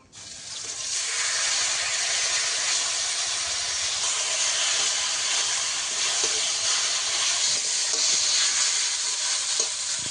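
Taro leaves hit hot oil seasoned with black cumin, dried red chilli and bay leaf after a fish head has been fried, giving a steady, loud sizzle and hiss that holds for several seconds.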